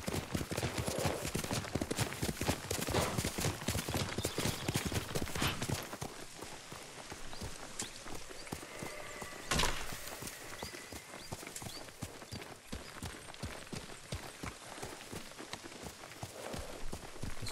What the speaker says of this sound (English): Does the horse get tired or what, dude? Because it sounded like it was breathing way too heavy.